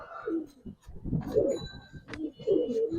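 Giribaz pigeons coo up close, with soft, low throaty coos and murmurs in a few uneven phrases, fairly quiet.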